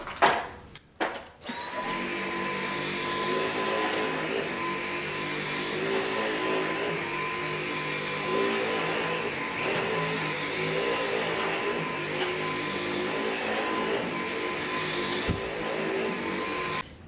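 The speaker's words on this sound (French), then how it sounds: "Et je vais aspirer tout ça." A vacuum cleaner runs over a carpet sprinkled with scented vacuum powder: a few clicks as it starts, then a steady, loud whining drone that continues unbroken with no talking.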